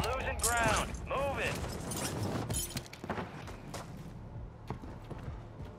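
Gunfire in an online shooter plays out as scattered sharp cracks and bursts, some close and some further off, mixed with mechanical game noise while a player talks over it.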